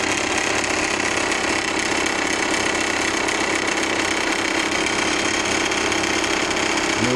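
A Stuart Meteor model steam engine with a dual boiler runs steadily with a continuous rapid chugging and hiss, loud and close, with no pauses throughout.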